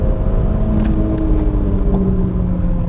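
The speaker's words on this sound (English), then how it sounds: "But the engine is the masterpiece. It revs. It should not rev like this." A remapped Audi S3 Mk1 engine revs briefly close by, a smooth rising and falling drone over a low rumble.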